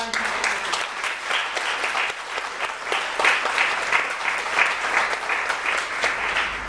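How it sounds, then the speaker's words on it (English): A room full of people applauds steadily, a dense even patter of clapping that continues throughout without voices standing out. "offer a huge round of applause"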